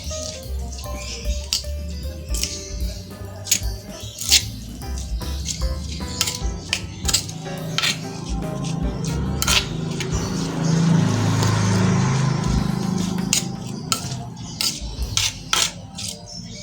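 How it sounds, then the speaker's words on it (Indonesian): Chopped tomato and onion stirred in a bowl for a sliced-tomato sambal, wet squishing and repeated utensil clicks and taps against the bowl, close and fairly quiet, with brief faint speech. "Tomat dan bawang yang sudah kita potong kecil-kecil. Lalu kita aduk."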